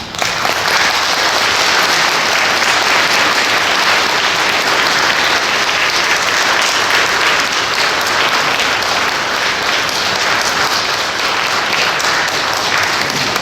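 A large church congregation at Segeomjeong Cathedral applauds loudly as a priest arrives for a Lenten lecture, a dense, even roar of clapping that holds steady throughout without pause.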